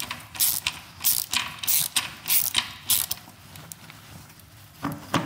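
A ratchet wrench clicks in quick repeated bursts while tightening a screw on an Öhlins shock absorber fitted to a Vespa GTS 300 scooter, loud and close with brief pauses between strokes.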